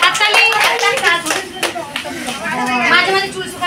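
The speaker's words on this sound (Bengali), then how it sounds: "হাততালি" Several people clap their hands at a New Year celebration and gift exchange, a quick, close, uneven burst that fades and then swells again, with chatter and a voice mixed in.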